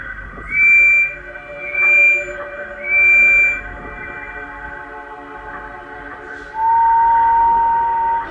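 Steam engine whistles at Christmas blow four clear, sustained tones in harmony, three short blasts in a row followed by a longer final one, loud and close with a faint background hum.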